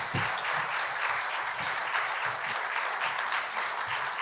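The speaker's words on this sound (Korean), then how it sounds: "나오실 때 크게 환영의 박수 부탁드립니다." A church congregation at a Wednesday prayer service applauds to welcome a pastor to the front, producing even, sustained clapping from many people with no voices over it.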